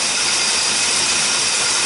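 A car engine, freshly retimed, runs steadily and loudly with a dense broadband roar throughout, close to the microphone, no voices.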